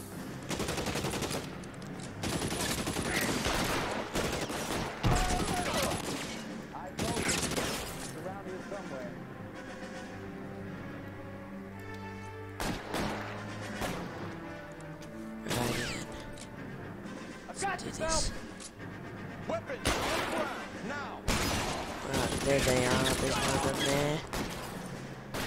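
Video-game gunfire in L.A. Noire, bursts of shots and crashes scattered through the stretch, mixed with someone talking over the action.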